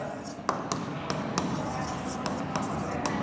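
Chalk or marker tapping and scraping on a board while a physics problem is worked out, with short sharp strokes at irregular intervals under a teacher's talk.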